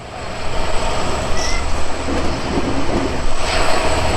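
Chilahati Express running through Ahsanganj railway station without stopping, a loud steady broadband roar of wheels and motion from on board, with a rising whine midway.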